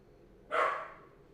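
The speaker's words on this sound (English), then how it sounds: "Sorry, the dog's barking." A single dog bark, fairly close, rising sharply and trailing off over a second against a quiet background.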